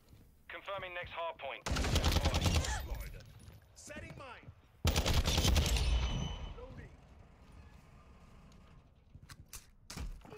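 Gunfire from the ISO Hemlock weapon in Modern Warfare 2, heard as two loud sustained bursts of rapid automatic shots with a few isolated shots near the end, and talk in between.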